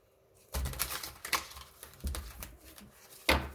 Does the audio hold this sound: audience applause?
no